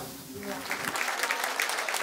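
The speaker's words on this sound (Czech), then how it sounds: "Tak opäť ďakujeme za potlesk." An audience applauds after a folk band's song, a dense patter of clapping that swells and continues, with voices faintly underneath.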